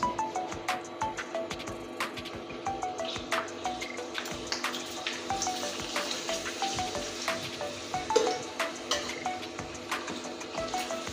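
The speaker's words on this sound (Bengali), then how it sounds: "এবার পাঁপড়টা আমি ভেজে নিচ্ছি এবার তেলে ছেড়ে দিচ্ছি" Papad frying in hot oil for a Bengali-style chicken kosha meal, a steady close sizzle with dense crackling pops running throughout, no voices.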